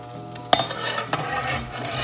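Butter sizzling in hot oil in a pan for soya chunks biryani, a steady bright crackle with a sharp clatter of utensil against the pan near the start and another knock partway through.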